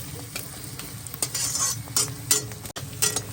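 Ingredients for a chicken dish fry in a kadai while a spoon stirs them, a steady close sizzle broken by repeated scraping strokes against the pan, with no voices.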